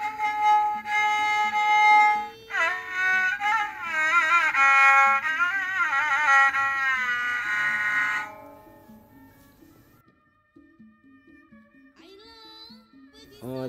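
A Betawi rebab is bowed with a nylon bow, producing a sustained, wavering nasal tone with slides for several seconds; it stops, and faint plucks and a short bowed fragment follow near the end.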